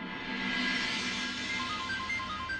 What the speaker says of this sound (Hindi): अरे शायद फोन आ गया।